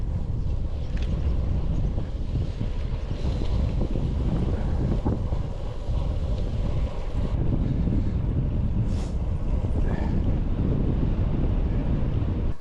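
A strong headwind on a road bike ride roars across the microphone as a constant, heavy low buffeting that barely lets up, with faint faraway sounds underneath.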